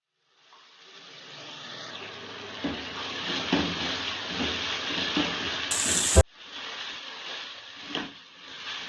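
Ginger-garlic paste frying in a pan for an aloo matar curry, a steady close sizzling hiss that swells as it cooks, broken by stirring scrapes and one sharp clatter near the end.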